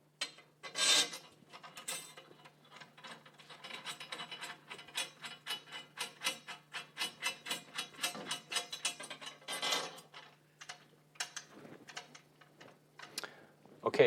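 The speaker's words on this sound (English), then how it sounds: "And you take your screws, and you just finger tighten these." Screws are turned by hand into drum lugs, giving quiet, close ticking and scraping clicks in irregular bursts, with faint sounds of handling in between.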